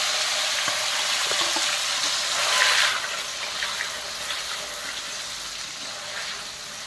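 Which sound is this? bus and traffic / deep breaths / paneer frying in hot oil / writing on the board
paneer frying in hot oil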